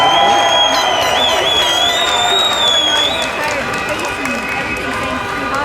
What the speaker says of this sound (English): everybody give him one more big round of applause here